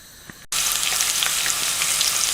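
A steady bubbling, hissing wash of salted water at a rolling boil with fusilli pasta in it starts abruptly and holds evenly, close by, with small pops scattered through it.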